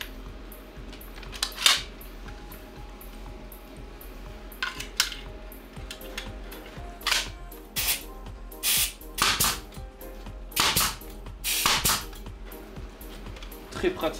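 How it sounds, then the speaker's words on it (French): A nail gun fires a series of sharp, loud bursts, one at a time with uneven gaps and a few close pairs, over a steady low hum during a quick DIY job. "On va être sur un pistolet à clous"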